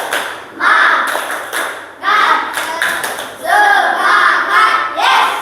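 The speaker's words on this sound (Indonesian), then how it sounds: "Tepuk semangat." A class of children claps out a rhythmic spirit cheer, several loud bursts of group clapping and chanting voices in quick patterned rounds, close and energetic in a classroom.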